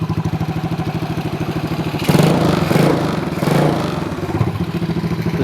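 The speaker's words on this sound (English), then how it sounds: "But obviously loud exhaust, that needs dealing with." A motorcycle engine running with no air filter and a loud open exhaust idles in a rapid, steady chugging pulse, swelling twice into louder revs before settling back to idle, close by with no talk.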